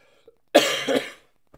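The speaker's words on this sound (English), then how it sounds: "I still have a cough. I'm gonna cough a little bit." A single close, harsh cough with a brief raspy tail, surrounded by near silence.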